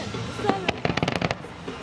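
Fourth of July fireworks burst in a quick crackling cluster of sharp pops after a single thump, with people talking excitedly over the display.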